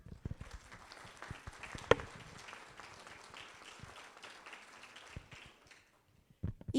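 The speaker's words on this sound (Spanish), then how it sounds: "para el cual pido un fuerte aplauso" Audience applause at a lecture on an extraordinary judicial election, welcoming Ignacio Hurtado Gómez, president of the Michoacán electoral institute; steady, moderately faint clapping with one sharp clap standing out, fading near the end.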